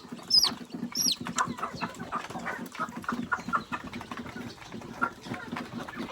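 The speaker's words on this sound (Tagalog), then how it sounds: "Ayan ang mga manok," Chickens on a backyard farm cluck with a couple of sharp higher calls near the start, moderately close over a steady low background hum, with no talking.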